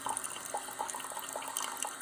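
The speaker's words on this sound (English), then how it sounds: "just wait for 2 minutes and it will give you hot water" A Keurig K-Mini single-serve coffee maker dispenses hot water in a faint, steady trickle and splash lasting a couple of seconds, with no talking.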